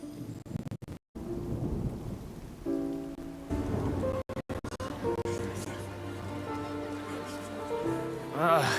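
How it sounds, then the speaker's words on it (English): Steady rainfall patters throughout in the video game Genshin Impact, with a deep rumble of thunder, a few abrupt cuts in the sound, and music and game effects layered on top. "It's raining again?"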